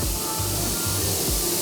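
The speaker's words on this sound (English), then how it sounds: "I spray sealer at about 25 PSI" Spray gun laying down sealer in a paint booth at about 25 PSI, a steady broadband hiss that runs without a break, with a low rumble pulsing underneath.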